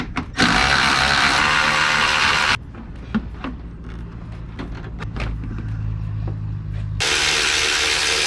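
Hand tools working to unbolt parts in the engine bay of an Acura TSX with a K24 engine: rapid ratchet clicking in loud close bursts, with quieter clanks and taps in between.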